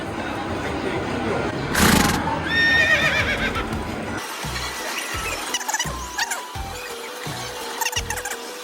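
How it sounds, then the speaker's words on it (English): A horse neighs loudly from an arcade horse-riding game machine in a busy Japanese game center, a bright squealing whinny followed by rhythmic clip-clop hoofbeats and electronic game sounds amid crowded arcade noise. "I embarrassed myself further on this horse riding game"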